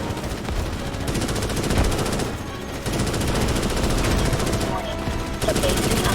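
Sustained automatic gunfire rages in the Starship Troopers: Extermination shooter as a squad defends the Ark base from attack, dense rapid bursts continuing almost without pause, with a brief lull midway, while voices talk over the fighting.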